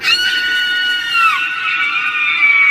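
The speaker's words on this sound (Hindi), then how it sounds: "तभी बाहर से काव्या की जोरदार चीख सुनाई दी।" A woman's loud, sustained, shrill scream, used as a sound effect in a Hindi horror story, rings out close and alone with a wavering pitch for almost three seconds.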